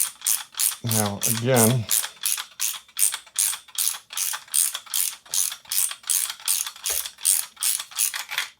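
A ratchet on a 24 mm socket loosens the top cap of a suspension fork, giving a rapid, even train of sharp, close clicks that runs throughout. A voice speaks briefly near the start.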